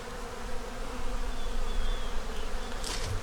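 Honeybees hum densely inside an open hive, a close, continuous buzzing drone that holds steady with no voices.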